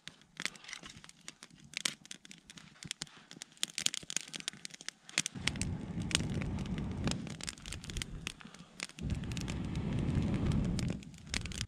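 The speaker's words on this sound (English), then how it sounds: "Nice little no-match campfire." Wood campfire burning in deep snow on a mountain, crackling and popping with sharp snaps, then swelling into a low roaring rush midway that comes and goes, close and fairly quiet.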